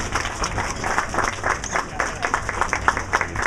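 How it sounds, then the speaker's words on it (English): Moderate applause from a gathering at a Santa Monica mixer with a German foreign policy delegation, uneven clapping with audible individual claps and some crowd murmur underneath. "We can give them all a big round of applause,"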